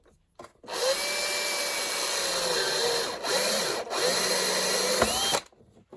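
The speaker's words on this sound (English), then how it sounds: "So I'll get a hole saw on the case, and hopefully I won't ruin it." A hole saw bores through the metal case of a White Knight eco tumble dryer with a loud, steady whining drill drone lasting about five seconds, pitch dipping briefly under load before spinning down abruptly; no talking.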